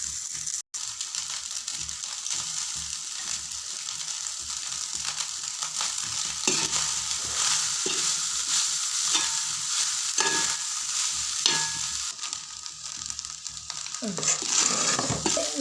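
A spoon stirs cooked rice into masala in a pan for lemon rice, giving a continuous scraping, sizzling rustle with irregular strokes. It is close and steady throughout, with no talking.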